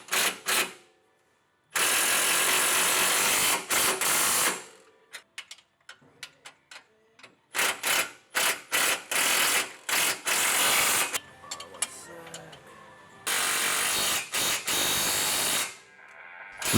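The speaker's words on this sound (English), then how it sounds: "Now you can tighten all the factory hardware on the new radius rods that have been installed." A ratchet tightens 12 mm factory bolts on new aftermarket radius rods fitted to a Polaris XP Turbo. Loud, close bursts of rapid clicking start and stop repeatedly, broken by short silences and a few softer metallic ticks, with no talking.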